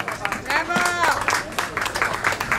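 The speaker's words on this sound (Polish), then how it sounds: "Duże brawa." Crowd applause at an outdoor ceremony for a sobriety run in Tomaszów, a dense patter of many hands clapping, with a speaker's voice over the top.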